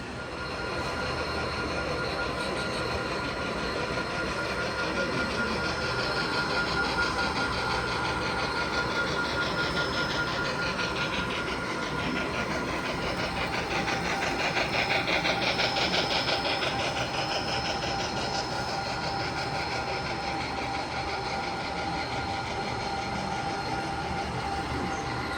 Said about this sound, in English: Got some EMD engines whirling away